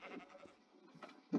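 Sheep in the Minecraft video game bleat in a few short, wavering calls, fairly faint, with a louder bleat bursting in at the end and no talk over them.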